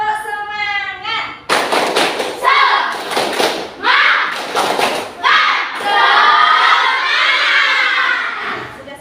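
Indonesian schoolchildren in a classroom perform a 'tepuk semangat' cheer, with loud rhythmic bursts of group clapping mixed with shouted chanting voices in a close, energetic, patterned sequence.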